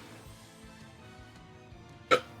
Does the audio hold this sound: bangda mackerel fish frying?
no